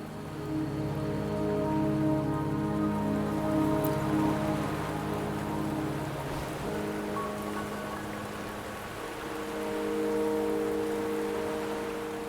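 Rain pours steadily in Wuthering Waves, a close, even patter of drops on surfaces that holds for the whole stretch over a low sustained drone, swelling slightly near the end.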